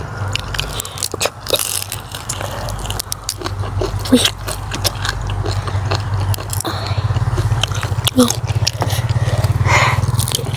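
A crispy grilled giant prawn head is bitten and chewed up close. Repeated crunchy cracks come over a low steady hum, with no clear speech.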